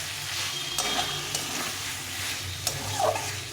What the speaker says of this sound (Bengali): আলুটা দিয়ে দেবো দিয়ে আলুটার সঙ্গে আবার একটু কষিয়ে নেব টমেটো আর মশলাটা